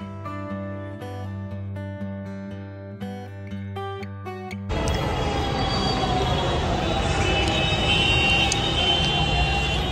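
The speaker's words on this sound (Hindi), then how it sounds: "मेट्रो आ गई, बहुत भीड़ हो रखी है।" A crowded night-time metro train pulls into a station in Janakpuri. Music plays first, then a loud, sustained rumble of the train takes over for the rest.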